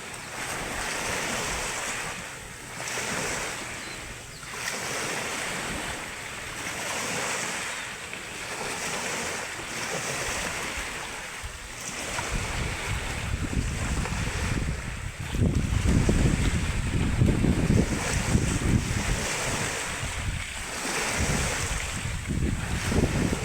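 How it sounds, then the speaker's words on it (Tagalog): Loud, continuous surf with waves rolling in and crashing nearby, mixed with gusty wind buffeting the microphone. "ang alon guys, napakaingay"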